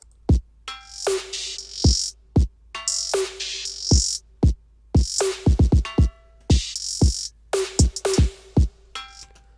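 A punchy drum loop plays alone: deep kicks, sharp snare hits and bright hi-hat accents in a steady, syncopated rhythm.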